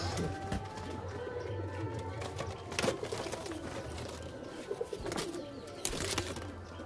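Fantail pigeons freed from a loft coo and call close by, with bursts of wing flapping as they move. People talk over the birds.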